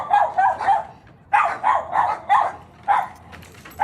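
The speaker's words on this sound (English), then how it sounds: "Barking at the owners." Several dogs bark and yip in short bursts while playing in a dry, empty pool, the barks coming in irregular groups with brief quiet gaps between them.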